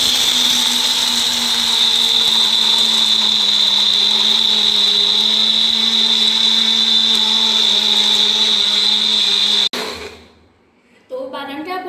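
A kitchen blender grinds peanuts into a paste with a loud, steady high-pitched whine that runs unbroken for about ten seconds, then cuts off abruptly, followed by a short pause and speech.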